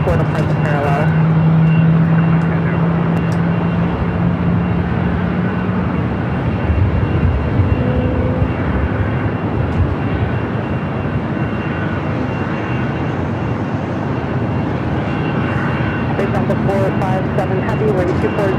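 Airplane taking off from runway 24 left at Los Angeles LAX airport, a loud sustained jet engine roar heard from some distance and mixed with outdoor noise, with radio talk over it.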